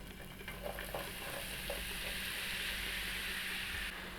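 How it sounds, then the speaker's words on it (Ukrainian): Onion frying in oil in a hot pan, a bright steady sizzle with a few soft stirring scrapes, close up and with no talk. "На гарячу пательню вливаю олію, всипаю цибулю"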